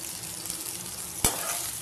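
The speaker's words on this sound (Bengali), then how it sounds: "পেঁয়াজ আর রসুন দিয়ে দিয়েছি, একটু হালকা ভেজে নেবো।" Onion and garlic frying lightly in a pan for an egg curry, a steady soft sizzle with a sharp clatter of stirring about midway, close and moderately loud with no talking.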